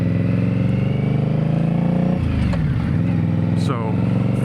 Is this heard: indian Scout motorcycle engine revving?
yes